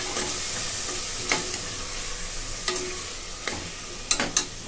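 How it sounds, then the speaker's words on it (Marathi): Soaked dried green peas sauté in a pan with a continuous sizzle, and a spoon scrapes and taps at intervals as they are stirred; no voices are heard. "हे चांगलं परतून घेते"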